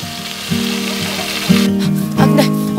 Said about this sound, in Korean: 지글지글 구워지는 저 모습만 봐도 아이고 그냥 입에 침이 꼴딱 넘어가네요